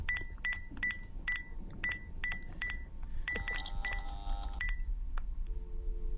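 Telephone keypad dialing in the horror game Guest Zero: a quick run of about a dozen short touch-tone beeps in small bursts, then a brief tonal chime and a low hum, faint and clean, with no talking.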